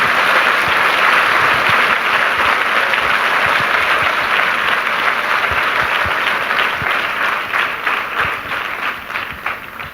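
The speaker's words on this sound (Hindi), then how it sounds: "आइए प्रभु के लिए एक अच्छी ताली बजाएंगे आपसे।" A church congregation applauds together during a sermon, with steady, loud clapping filling the room throughout and tapering slightly near the end.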